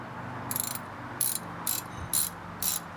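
Socket wrench ratcheting on a car during a brake job, five short bursts of clicking at a steady rhythm, close up and distinct over a quiet background.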